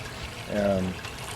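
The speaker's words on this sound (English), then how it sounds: "I have water being put in there, going through a filter material." Water pours and trickles through filter material in an aquarium, a brief burst of running water that rises and fades, with faint background noise around it.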